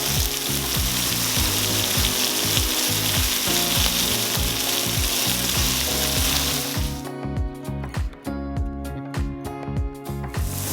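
Onions sizzle and fry in a pan of oil left over from cooking meat for Persian-Turkish kofta kebabs, a steady close hiss for about seven seconds that then breaks into scattered crackles and pops.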